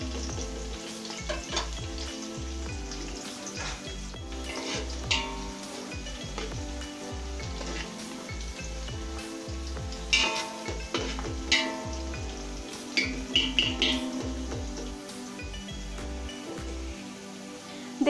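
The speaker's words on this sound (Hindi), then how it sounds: "प्याज अच्छी तरह ब्राउन होने दीजिए।" Onions frying and browning in a pan for vegetable pulao, a continuous crackling sizzle punctuated by repeated scraping stirs, heard close over steady background music, with no talking.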